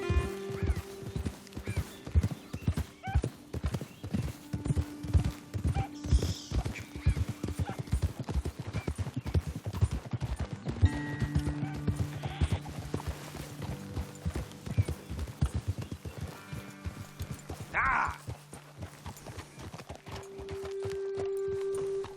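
Steady clip-clop of horse hooves at a walking pace in Red Dead Redemption 2, close and continuous, with a horse whinnying briefly and someone talking over it.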